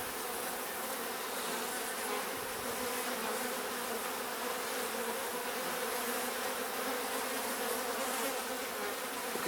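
Masses of honey bees of mixed sizes, drones among them, hum steadily on a brood frame pulled from a split colony; the close, constant buzz runs unbroken for several seconds.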